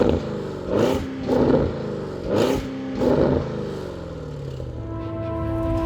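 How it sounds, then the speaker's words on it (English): A 2024 Porsche Cayenne Turbo GT with a titanium exhaust blips its engine four times in quick succession, each rev rising sharply then falling, close and loud, before settling to idle. "the question is this exhaust loud enough? It is a titanium exhaust."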